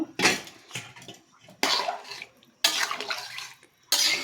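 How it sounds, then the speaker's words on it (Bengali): Water poured in several separate splashing bursts into a pot of fish-head and bottle gourd curry as it cooks, each pour fairly loud and close, with quieter stirring and pot noise between. "এখন ঝুল দিয়ে পানি দিই"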